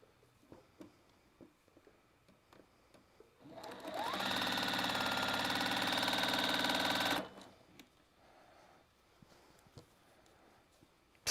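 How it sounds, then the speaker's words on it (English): A sewing machine stitching quilt fabric runs in one steady, loud burst of about three and a half seconds, framed by quiet room noise and faint clicks before and after. "So when I start sewing, you will hear it."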